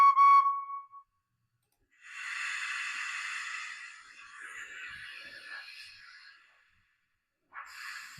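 A model railway locomotive on a layout sounds its whistle: a short tone at the start, then a longer two-second wavering whistle blast fading away, followed by another brief toot near the end.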